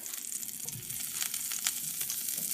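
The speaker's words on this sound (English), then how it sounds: "I love to hear the skillet sizzle like that" Zucchini slices, laid skin side up, sizzle steadily in hot oil in a skillet, a continuous close crackling hiss with small pops, heard alone.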